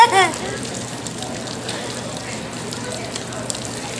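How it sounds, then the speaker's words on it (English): A tap runs outdoors on a summer day, giving a steady, rushing hiss of water that keeps going evenly for several seconds after a brief voice at the start. "when the water shuts off"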